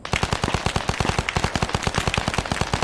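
Rapid automatic gunfire in the video game Arma 3, a steady close burst of evenly spaced loud shots with no pause and no talking.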